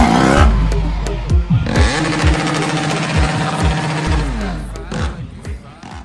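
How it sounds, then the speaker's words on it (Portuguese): A BMW F800 motorcycle engine is revved up and held before dropping back, its loud, buzzing twin-cylinder note rising and falling close to the microphone with no talk. "É isto mesmo, uma moto alemã."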